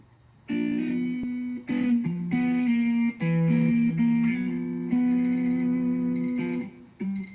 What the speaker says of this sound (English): There's my phone beeping.